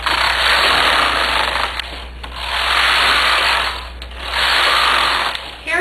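A knitting machine carriage is pushed back and forth knitting circular rib rows, three long rasping, whooshing sweeps of roughly equal length with short pauses between, close and fairly loud.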